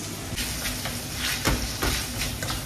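Duck breast frying in a pan, a steady close sizzle running throughout with a few brief louder crackles and spatters.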